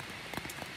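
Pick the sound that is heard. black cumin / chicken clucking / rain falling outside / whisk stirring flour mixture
rain falling outside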